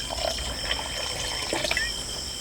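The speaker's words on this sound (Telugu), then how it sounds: "పులుసుకు సరిపడా నీళ్లు పోసేసుకుందాం" Water pours into a tamarind stew (pulusu) cooking on a farm, a steady soft trickling and splashing stream running for a couple of seconds over constant background hum.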